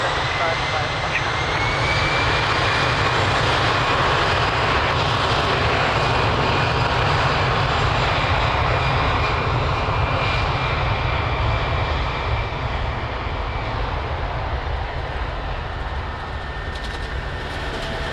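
An airliner takes off from runway 02 at Lisbon Airport with a loud, sustained jet-engine roar that fills the whole stretch, while a voice talks faintly beneath it.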